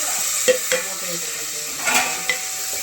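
Tomato goes into a pan of onion and ginger paste already frying. It sizzles steadily, with a few sharp scrapes and clinks of a spoon against the pan, and no voices are heard.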